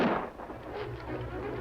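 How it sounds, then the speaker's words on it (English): A single loud gunshot opens on an old western radio drama, with a sharp report that fades into a rumbling echo and low background noise. "Gunfire, Kemo Sabe."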